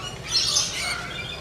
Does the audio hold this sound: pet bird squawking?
yes